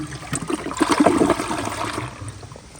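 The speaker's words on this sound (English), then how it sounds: "But now I'll do more of a close-up flush." 2008 Jacuzzi Espree toilet flushing up close: a rushing swirl of water that builds quickly, peaks, then tapers into a softer trickle as the bowl refills.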